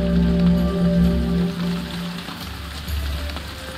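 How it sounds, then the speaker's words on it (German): Steady patter of rain falling in the video game Shenmue 3, a soft constant hiss over a low hum and faint tonal background, no voices present. "Oh, es regnet."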